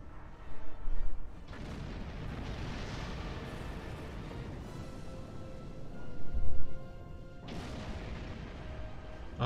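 Explosions in a Star Trek space combat video game, several heavy booming blasts and rumbling bursts over a continuous noisy roar, with louder swells near the start and middle.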